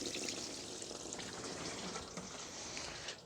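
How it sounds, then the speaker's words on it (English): Warm water poured over corroded battery terminals on a 2005 Toyota Corolla 1.8, a steady close splashing and trickling wash lasting a few seconds, with no voices. "we're just gonna pour some warm water over the terminals just to clean the corrosion."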